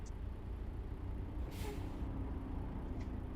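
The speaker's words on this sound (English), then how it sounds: "It's a truck." A truck in a trucking simulation game, heard as a steady low engine rumble with a brief hiss of air brakes partway through, fairly close and without talk.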